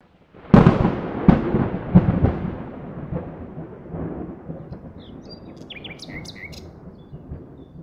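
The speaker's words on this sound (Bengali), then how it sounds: "মেঘ ডাকছে" Cartoon thunder cracks and rumbles in several loud close booms that fade into a lingering roll, with bird chirps near the end.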